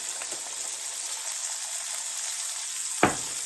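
Pork chops seasoned with salt and pepper sear in a frying pan, a steady close hiss and crackle running throughout, broken near the end by one sharp knock or clatter.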